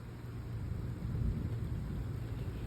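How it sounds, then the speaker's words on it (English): Thunder rumbling through a rainstorm at night on a golf course, a steady low roar with a broad swell near the middle, heard alone with no voices. "So it is starting to rain, and it's also thundering and lightning."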